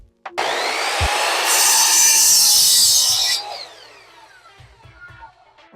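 Power saw ripping through a wooden cheater board in a shop, a loud sustained cut of about three seconds that winds down, followed by quiet clunks and shop noise.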